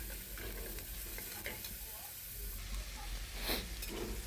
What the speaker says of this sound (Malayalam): പട്ട, ഗ്രാമ്പൂ, ഏലക്കയൊക്കെ ചേർത്ത് സവാളയും കൂടി ചേർത്തിട്ട് നല്ലപോലെ ഒന്ന് സോട്ട് ചെയ്തെടുക്കുന്നുണ്ട്